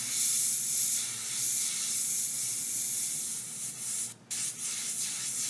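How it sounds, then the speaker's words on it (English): An airbrush sprays paint in a steady, close hiss while palm trees are painted onto a design, with one brief break near the end before the spray resumes. "This airbrush is responding very quickly."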